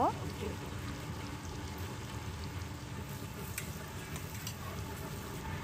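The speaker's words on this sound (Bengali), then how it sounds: "বাটারের মধ্যে বেশি করে রসুন পেঁয়াজ ভালো মতো ভেজে নিব" Garlic and onion fry in butter in a pan, giving an even, continuous sizzle that stays close and steady throughout.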